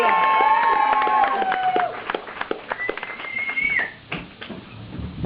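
Pub crowd at a live comedy night cheering, whooping and clapping to welcome a comedian to the stage, a loud burst of mixed shouts and claps that thins out toward the end.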